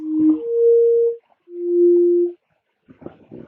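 A sine pad synth from FL Studio's Sytrus, dry with no reverb, plays sustained tones that stop cleanly between notes, followed by a brief busier burst at the end.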